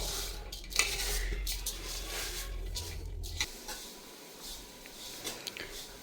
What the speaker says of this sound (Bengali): তো এক চুলায় চিরা ভাজা হচ্ছে আর আরেক চুলায় গুড়ের শিরা করা হচ্ছে